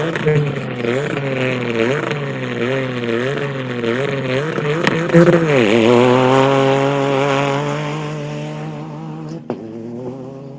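Rally car 306 at the Abu Dhabi Desert Challenge revs hard in rising, gear-stepped bursts as it launches off the start line and pulls away. Voices murmur in the background.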